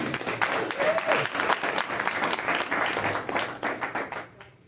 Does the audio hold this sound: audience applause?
yes